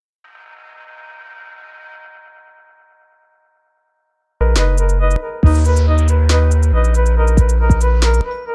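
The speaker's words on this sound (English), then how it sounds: "Then we have this spooky sample, which has EQ and echo applied to it." A spooky sample shaped with EQ and echo plays faintly for about three seconds and fades out, followed after a short silence by a loud, dense electronic passage in Ableton Live.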